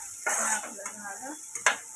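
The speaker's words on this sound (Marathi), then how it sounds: "सर्व असं व्यवस्थित मिक्स करायचं." A spoon scrapes and stirs potato bhaji with turmeric in a pan, giving two short rasping strokes over a faint, steady sizzle.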